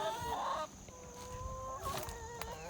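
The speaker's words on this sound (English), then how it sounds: "Yes, you hear chickens." Chickens clucking in a garden chicken coop, soft repeated clucks and a short call at moderate distance over a steady outdoor background, with no talking.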